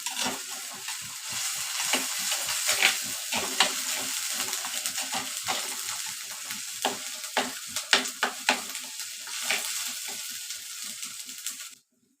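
Ginger garlic paste sautéing in oil in a clay pot for chicken gravy, with a constant frying hiss and repeated close scraping and knocking stirs, then cutting off abruptly to silence near the end.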